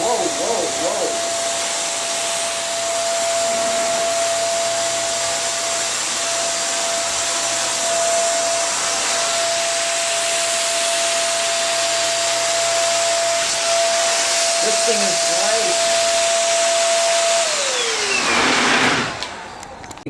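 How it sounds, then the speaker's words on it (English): An XPOWER A-2 powered air duster blows in a loud, steady high-pitched whine, close by, then winds down near the end; a person speaks faintly underneath at times. "Let me get this blower on here"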